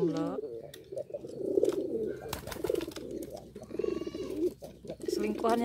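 Close pigeons from a kept collection give low, rolling coos in a near-continuous series, with brief higher chirps and rustles mixed in.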